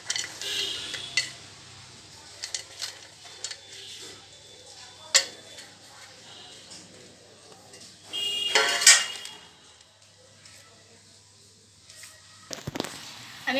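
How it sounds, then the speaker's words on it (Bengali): Vegetables, cashews and raisins for fried rice are mixed in a pan with intermittent scraping, clinking and rattling bursts, louder around the middle, close and fairly quiet between strokes. "এবার সবজিগুলো আমি ভালো করে মিশিয়ে নিচ্ছি, দুটো জায়গাতেই মেশাচ্ছি"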